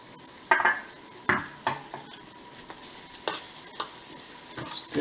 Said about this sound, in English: Stir again.